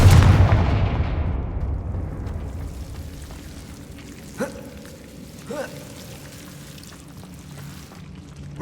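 A Confringo fire spell bursts in the Hogwarts Legacy game, a loud booming blast that decays over a couple of seconds, followed by two smaller sharp impacts amid quiet ambience.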